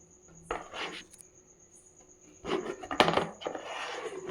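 A metal lid clinks down onto a vessel of fermented uttapam batter, with a few sharp clattering contacts, then a louder burst of scraping and knocking near the end.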